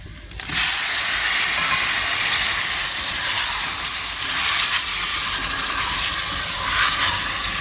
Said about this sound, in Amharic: ከዛ ቅድም ያልኩትን ዶሮዬን ጨምራለሁ።